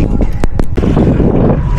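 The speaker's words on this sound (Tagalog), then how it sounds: "medyo windy na guys" Steady, loud wind rumble buffets the microphone, broken by a few sharp knocks and clicks.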